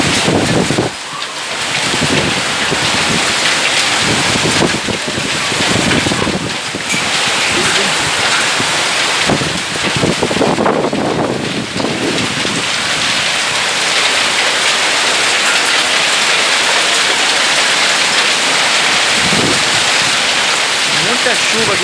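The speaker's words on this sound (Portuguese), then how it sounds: "Tá chovendo muito aqui em São Paulo, hein?" Heavy rain with hail pouring steadily onto a backyard and ground in São Paulo, a dense, constant hiss and patter lasting throughout, with a voice occasionally speaking over it.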